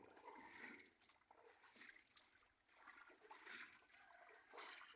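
Water splashing and spraying while washing a car outdoors, in faint intermittent gushes that rise and fall in irregular waves, with no clear talk over it.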